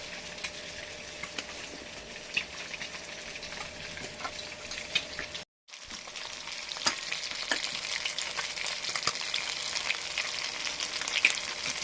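Fish sizzles in a frying pan with a steady, close crackling hiss, punctuated by occasional spatula taps and a brief break midway before the frying noise resumes, louder; nobody talks.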